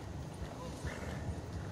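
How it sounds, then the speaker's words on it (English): Horse hooves clopping in Red Dead Redemption 2, a soft, steady low thudding held in the background of a short, quiet stretch of the game. "This is a stupid horse."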